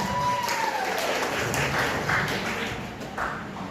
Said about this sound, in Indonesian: Tepuk tangan untuk Renner.